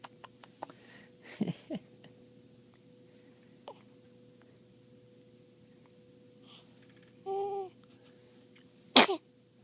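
A baby gives a couple of short, soft sneezes at close range, one early and a sharper one near the end, with a brief higher vocal sound between them against a quiet indoor background.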